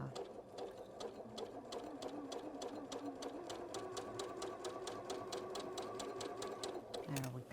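A sewing machine stitches a quilt seam one piece at a time for a row quilt, its needle hammering in a steady fast rhythm close by before stopping near the end, with a person talking over it.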